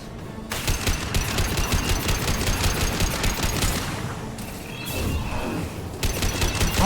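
Sustained automatic gunfire in the video game Mass Effect 2: rapid, dense bursts of shots run almost without pause, loud and close, with a brief dip before firing resumes.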